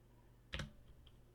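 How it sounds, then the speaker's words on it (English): Someone types on a computer keyboard, two quiet close clicks of keys pressed about a second apart in an otherwise faint, still room. "Let's type this in."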